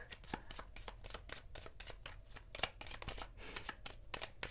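Tarot cards shuffled by hand in a steady run of quick riffling flicks and soft slaps, close and fairly quiet, with no talking.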